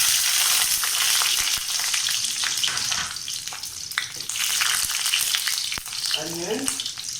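Garlic dropped into hot oil already roasting bay leaves, cinnamon, cardamom and cloves, sizzling steadily and loudly throughout, with scattered clicks and scrapes of stirring and a brief faint voice near the end.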